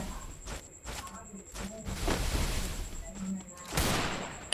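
Gunfire in the Free Fire battle game crackles in several sharp bursts and volleys of varying loudness, spread through a busy match.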